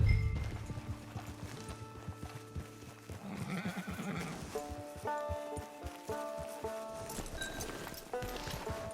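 Hooves clip-clop steadily at a walk while a horse lets out a whinny in the video game Red Dead Redemption 2, with music and ambient game sounds underneath.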